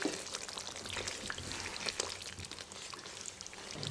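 A frying pan of cooked masala gravy, oil risen to the top, being stirred, with a steady soft sizzle and faint scraping and clinking from the spoon throughout, close and continuous with no talk.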